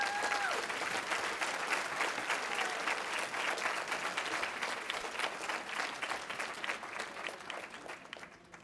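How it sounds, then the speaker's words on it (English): Sustained audience applause at a university celebratory commencement ceremony, a dense wash of many hands clapping steadily for over eight seconds and tapering slightly toward the end, with no voices over it. "Can we give her another round of applause, please?"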